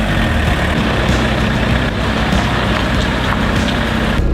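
A 1989 VW Jetta Turbo Diesel engine runs with a loud, steady diesel drone and low rumble for several seconds, close up and with no talking over it.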